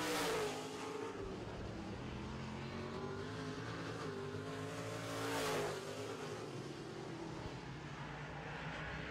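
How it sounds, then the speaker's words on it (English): Modified race cars on an oval track during a heat race, engines roaring continuously as the pack runs into a turn, with a louder surge as cars pass close by, heard from the grandstand distance. "It is a drag race into turn three."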